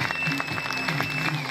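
Audience applause at a shop opening, steady and moderately loud with a crowd murmur beneath, carrying on without pause under faint voices.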